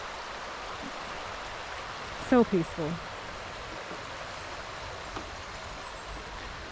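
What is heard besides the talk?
flowing stream water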